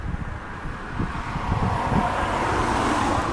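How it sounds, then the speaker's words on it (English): A car passes along a road, a broadband rush of tyres and engine that swells steadily louder and stays loud at the end. "Here comes another car."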